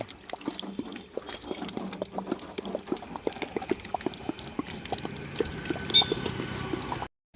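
Water pours and splashes steadily over a car during a wash, with a continuous gushing stream and scattered drips close by, then cutting off abruptly near the end.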